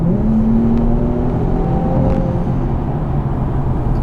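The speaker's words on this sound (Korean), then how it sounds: "근데 이 가속력도 엔진 회전음이나 이런 부분들도 진짜 매끄럽다는 느낌이 많이 들어요." An Infiniti Q60S engine hums and rises smoothly in pitch as it accelerates, a continuous close whir with no speech.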